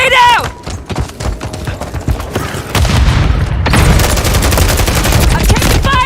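Heavy gunfire in Call of Duty MW III, with sustained rattling bursts and booming impacts that grow louder and denser partway through, under in-game radio chatter and effects.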